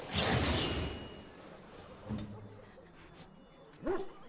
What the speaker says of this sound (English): He's like, woof.